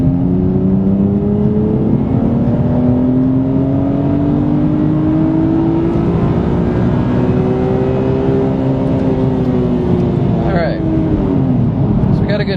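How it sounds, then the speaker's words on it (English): A turbocharged car engine revs from half to full throttle, a loud, dense roar with a pitch that climbs steadily before dropping off near the end, with a faint beeping near the close. "Okay, we're going to do half throttle to full throttle."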